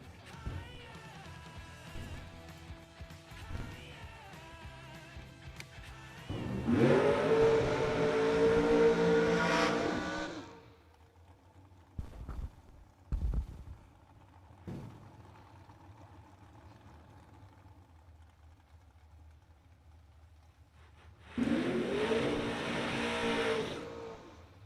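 A dragster and a Camaro roar off the line at Darana Dragway 42, a loud burst of engine noise lasting a few seconds, then quieter track ambience with a few thumps before another loud engine surge near the end.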